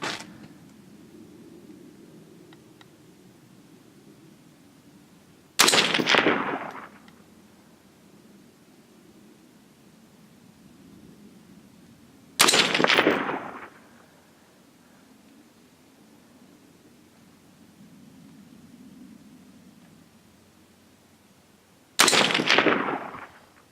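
.223 rifle firing cast bullets over a chronograph: three loud, sharp gunshots several seconds apart, each with a short decaying tail, over a low steady outdoor background rumble.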